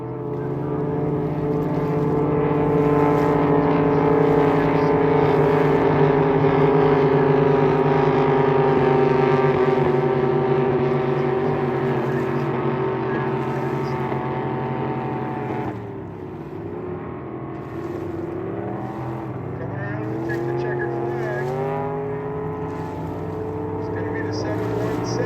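Jet boats racing on water, their engines roaring loudly and steadily with shifting pitch as they pass, the drone dipping briefly midway before building again, with a voice talking over the engine noise.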